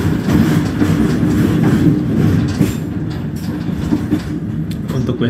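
A train runs over rail tracks and switches on the Jatinegara–Manggarai double-double track line, entering track 4. A loud, close, continuous rumble with steady wheel clatter lasts throughout, and no voices are heard.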